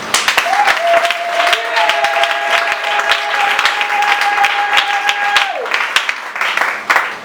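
A church congregation applauds to acclaim Jesus, with loud, sustained clapping from a crowd throughout, and a sustained tone or voice heard underneath for several seconds.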